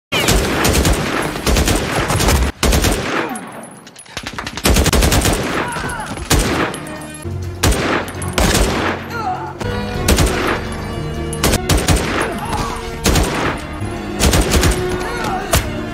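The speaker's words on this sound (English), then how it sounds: "He drives in and a shootout breaks out with Nero finding a way to reach Chavez." A movie shootout, with dense bursts of gunfire rattling back and forth for the whole stretch: rapid volleys and single loud shots, one brief lull near the start, then steady heavy firing to the end.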